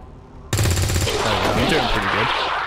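Weapon fire in XCOM 2 erupts suddenly after a quiet half-second, a loud rapid burst of shots followed by ringing, crackling decay, with faint talk beneath.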